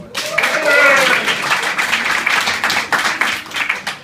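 Crowd clapping at a comedy club stand-up show, a short burst of fairly loud applause lasting a few seconds and thinning out near the end.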